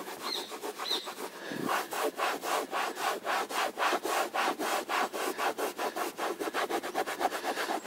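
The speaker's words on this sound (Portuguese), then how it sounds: "aplica o produto no pano e vamos esfregar no couro" A cloth with cleaner rubs hard back and forth over a leather car seat, a fast, even run of loud, close rasping strokes that continues steadily with no talking.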